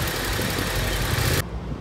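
Motorcycle engine revved in first gear during a slow slalom exam exercise at a Łódź driving test centre, a steady loud engine drone that cuts off abruptly near the end.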